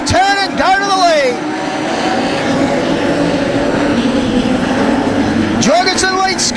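Modified sedan race cars, including a Cortina, racing in a Queensland Title heat at Carina Speedway, their engines roaring loud and sustained with rising revs and passing sweeps, under a race commentator's continuous talk.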